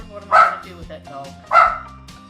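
Two house dogs bark loudly and close by in a kitchen, two sharp barks about a second apart with softer whines and yips between them.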